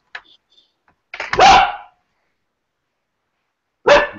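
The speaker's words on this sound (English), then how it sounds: "Mute the dog." A dog heard through an online meeting call lets out a faint yip, then two loud, close barks separated by a pause of a couple of seconds.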